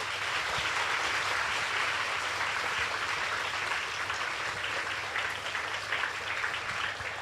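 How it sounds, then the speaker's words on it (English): Audience applause at a primary school project sharing night, a steady dense wash of clapping that holds evenly for the whole stretch, moderately distant and without a break. "So can we please give them a round of applause?"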